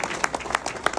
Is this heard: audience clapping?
yes